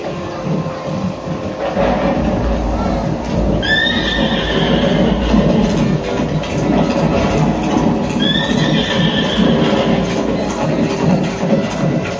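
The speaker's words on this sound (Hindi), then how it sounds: "ये अश्वमेध यज्ञ का घोड़ा है जिसे पांडवों ने छोड़ा" Two loud whinnies from a horse ring out over the steady bed of a musical water fountain show soundtrack in Jammu, with a rumbling, clattering background beneath them.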